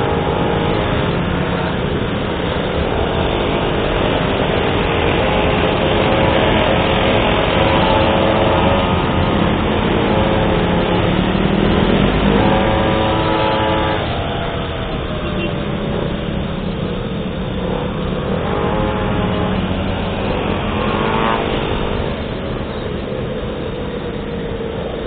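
A small motorized goped scooter engine putters along at low speed on a ride around Bandung after rain, a steady, loud, close drone with slight rises and dips in pitch throughout, no talking.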